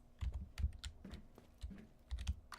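Rapid typing on a computer keyboard, close and fairly loud, with irregular bursts of clacking keys and short pauses, and no voices.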